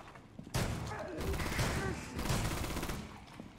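Video game gunfire raking a metal floor, dense bursts of rapid shots with clanging impacts in two long volleys separated by a brief pause, loud and close.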